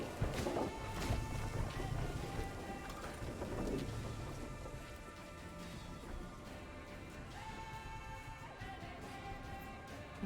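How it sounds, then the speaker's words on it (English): Steady rain and rolling thunder from a storm in the video game Thronebreaker, a dense continuous wash with low rumbles swelling near the start and holding loud throughout, no voices. "The storm is coming. Let's enjoy the weather while we still can."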